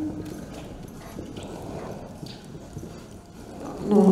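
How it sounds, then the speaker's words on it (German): Icelandic horse galloping at a breed show, its hoofbeats a steady, fairly close clip-clop rhythm over low outdoor rumble, growing louder toward the end. "Ihr könnt noch einmal Galopp sehen."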